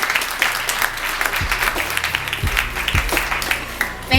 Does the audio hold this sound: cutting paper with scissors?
no